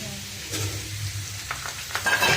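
Curry leaves hit hot tempering oil in a frying pan along with fried fenugreek seeds and garlic, bursting into a loud, close sizzle that swells toward the end with spattering crackles.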